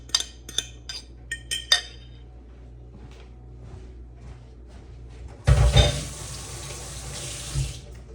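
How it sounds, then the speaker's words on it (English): A kitchen tap gushes loudly for a couple of seconds as hands are rinsed while making a venison and pork meatloaf, preceded by a few sharp clinks of dishes and quieter handling noises. "Wash my hands again."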